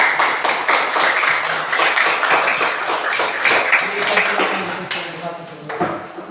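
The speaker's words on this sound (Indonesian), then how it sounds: "Oleh karena itu tepuk tangan untuk kelompok 1 dulu." An audience claps for a group after a discussion presentation, a steady crowd of hand claps with a few sharp individual claps standing out, tapering near the end.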